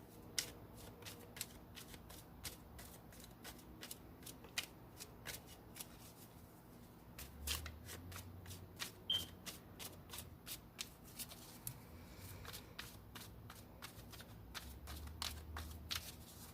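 A deck of tarot cards is shuffled by hand close by: soft, quiet riffles and flicks come in irregular bursts and clicks over about sixteen seconds, with no talk.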